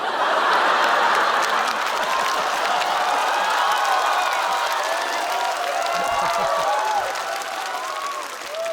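A live stand-up comedy crowd breaks into sustained applause mixed with laughter and cheering. The loud, continuous roar eases slightly toward the end.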